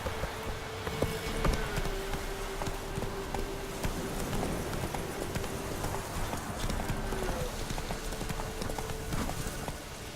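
Roach the horse galloping in The Witcher 3, a steady rapid clip-clop of hooves carrying on throughout over a low ambient music bed, with no talk.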